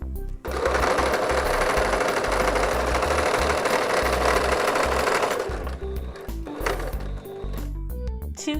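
A sewing machine stitches a straight line up the centre of a pillowcase apron pocket, dividing it in two: a loud, steady motor whir that runs continuously for about five seconds, then slows into shorter stop-start bursts.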